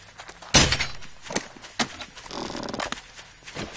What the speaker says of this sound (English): All right, this dog's going to die right now.